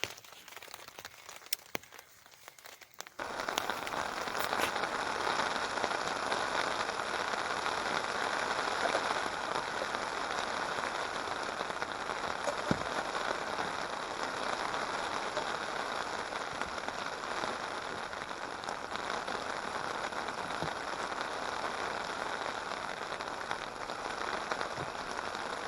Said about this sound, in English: it looks like it's settled in for an afternoon of rain